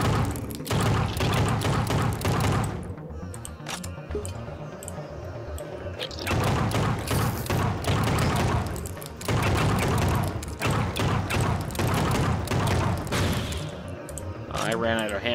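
Handgun shots in Project Warlock, a shooter set in a polar tundra level, come as rapid repeated bursts separated by short lulls, with thuds and mechanical game effects mixed in.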